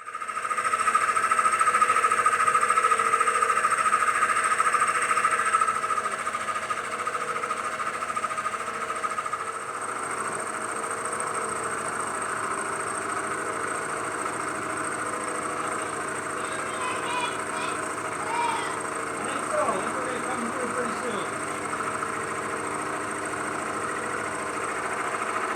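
A Bridgeport Series 1 milling machine bores out a worn casting on quill feed, giving a steady, loud mechanical whir and hum that runs throughout with only a slight drop in level partway in.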